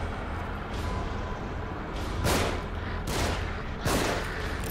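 Gunfire in The Evil Within during a vehicle ride chapter: three or four loud, heavy bursts of shots spaced a second or so apart, each ringing out over a constant rumbling background.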